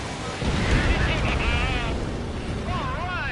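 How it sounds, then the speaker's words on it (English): Rail cannon exploding in the Ace Combat video game, a loud sustained rumbling blast with roaring noise, heard under radio-style voices talking. "Confirming explosions. The rail cannon's been destroyed."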